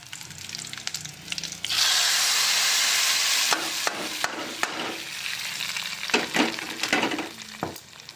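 Tadka for spinach dal with bachhala leaves hits hot oil in a village kitchen, giving a loud, steady hiss and sizzle. Scattered clinks and scrapes of stirring follow as the frying settles.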